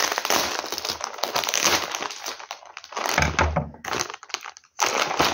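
Scissors cut open plastic packaging from a baby-items haul, giving close, busy crinkling and snipping with rustling plastic, a brief low thump midway and a short pause near the end.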